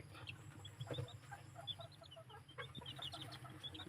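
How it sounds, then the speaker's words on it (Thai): Thai bantam chicks peep in a brood pen warmed by heat lamps, a busy scatter of thin, high chirps over a low constant hum, faint and fairly close, with no one talking. "นี่ลูกไก่ครับ ลูกไก่"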